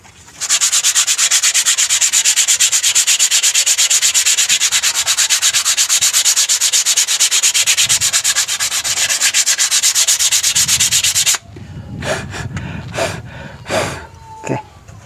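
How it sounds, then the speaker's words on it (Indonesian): Sandpaper rubs rapidly back and forth on a brake part for about eleven seconds, a loud, even scratching rasp, followed by a few softer, separate rubbing strokes and breathy handling noises. "Jadi kita perlu gosok dengan kertas pasir."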